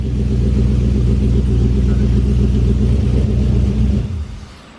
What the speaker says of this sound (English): Tire spin.